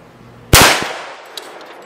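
A 45-70 rifle fires at a bulletproof backpack outdoors: one sharp, loud crack with a metallic clang, then a fading echo and a faint second knock.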